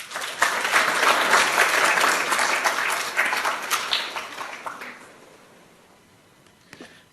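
Sustained audience applause welcoming a speaker at a symposium, loud steady clapping from a crowd for about five seconds before fading out to near silence.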